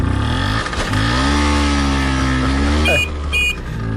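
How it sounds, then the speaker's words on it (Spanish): A Vespino 50 cc moped engine drones steadily and up close, its pitch rising and falling as it revs, with a couple of brief high beeps near the end. "Él iba viajando, y atención, en una Vespino de 50 centímetros cúbicos."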